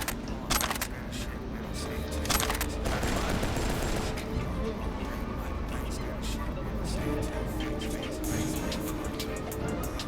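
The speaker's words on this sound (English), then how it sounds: "Who the fuck is shooting?" Gunfire from the Cyberpunk 2077 video game, a fairly distant rattle of repeated shots and bursts over steady background noise, with a few sharper cracks standing out near the start.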